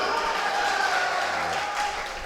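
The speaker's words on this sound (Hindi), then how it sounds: "यार एक बार ताली बजाओ" A crowd at a poetry recital claps steadily for a couple of seconds, a dense patter of many hands at moderate volume with a faint voice underneath.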